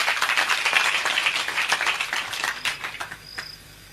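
An audience at a public event for MLA Dr Kiran Lahamate claps in a brisk crowd of handclaps that thins and fades away within a few seconds.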